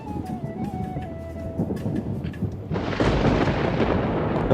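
Thunder rolls from a lightning storm above a rooftop, a low rumble that swells into a louder, broad roar in the second half.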